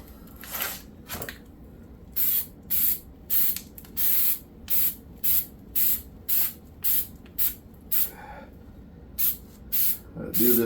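Short bursts of sealant spray hit a fireplace pipe in a steady rhythm, about a dozen even hisses close by, each roughly half a second long with brief pauses between.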